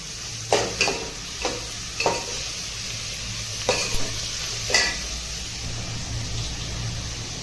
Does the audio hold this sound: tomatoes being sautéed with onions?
yes